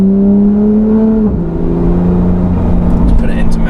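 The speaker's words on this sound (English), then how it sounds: "a Porsche 911 GT3 fitted with a full straight pipe IPE exhaust system" A Porsche 911 GT3 with a full straight-pipe IPE exhaust idles loudly with a steady low drone, then shifts pitch slightly, with a harsh rumbling exhaust tone throughout.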